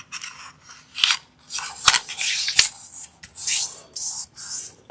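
Scissors snip through a circle of paper folded in quarters to cut a tiny hole, heard up close as several short crisp cuts and paper rustles in uneven bursts, with no one talking.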